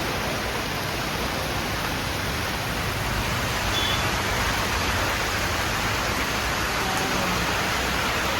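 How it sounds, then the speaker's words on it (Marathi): Rain falls in a steady, even hiss that fills the whole stretch without pause, with no voices over it. "पाऊस येतोय जातोय. परत आला बघा, पाणी भरतोय परत."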